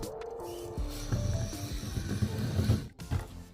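Small Traxxas TRX4m RC crawler on portal axles whining as its electric motor and gears spin the wheels, a close, buzzing mechanical drone with rising and falling pitch and short bursts.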